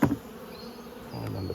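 Honey bees buzz around an opened five-frame nucleus hive being moved into a nine-frame super at Coramba, a close, steady hum with brief louder bursts near the start.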